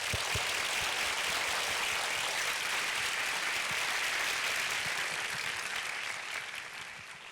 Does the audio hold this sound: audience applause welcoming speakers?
yes